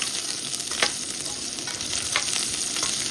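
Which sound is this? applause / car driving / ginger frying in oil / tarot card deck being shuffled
ginger frying in oil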